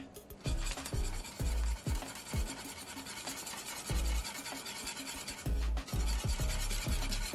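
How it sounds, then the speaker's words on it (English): A whisk beats a flour slurry into a thick vegan cheese sauce in a pot, making a fast, repeated scraping and rubbing close by, with soft low thumps and no voices. "go ahead and add in your slurry while whisking"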